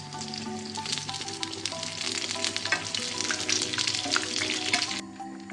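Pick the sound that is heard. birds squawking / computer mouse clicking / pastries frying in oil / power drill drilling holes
pastries frying in oil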